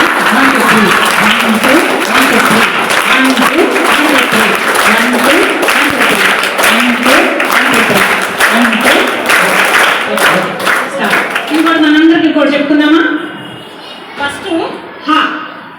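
A meditation audience claps together in a steady one-two-three pattern, loud and dense for several seconds before thinning out into a few scattered claps and voices.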